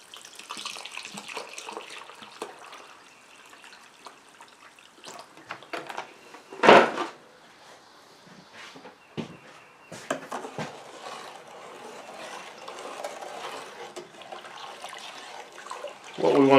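Water pours from a tap or vessel onto sugar in a pot for making banana rum, an irregular gushing and splashing with a few louder bursts and quieter stretches, heard close up with no voices.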